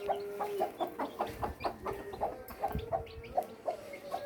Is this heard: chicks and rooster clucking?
yes